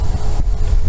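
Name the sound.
wind blowing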